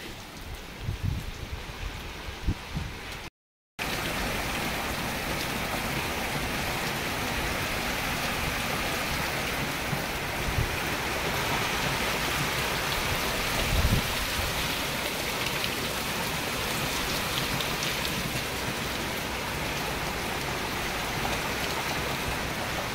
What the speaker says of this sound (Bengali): দেখো পুরো প্রচুর বৃষ্টি এসে গেছে।